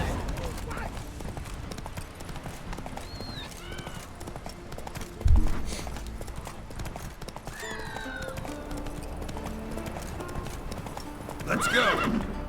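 Hooves of the horse Roach clip-clop steadily in The Witcher 3, with a whinny partway through and bursts of louder game sound, beneath a speaking voice.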